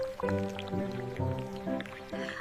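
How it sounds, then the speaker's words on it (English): A tea bag drops into a cup of hot water, giving a few soft, close liquid plops and squishes spaced over a couple of seconds. "I drop a tea bag."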